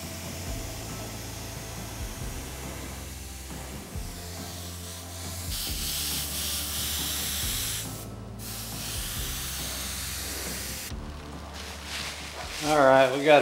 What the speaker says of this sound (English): I'm gonna take some plastic and I'm gonna spray the plastic and I'll dab it around it.